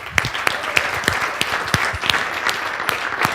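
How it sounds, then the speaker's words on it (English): Audience applause after a speaker's call for a round of clapping, a steady patter of many hands with sharp individual claps standing out, fairly close and continuous throughout. "Give them a round of applause."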